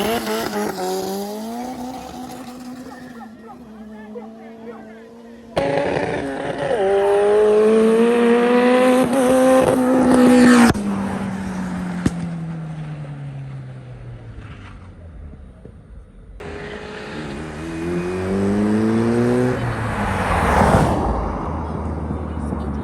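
A fully built turbocharged Honda D-Series car drag racing a BMW 750Li, engines revving up through several rising gear pulls with sharp shifts between them, loud and close, with voices now and then.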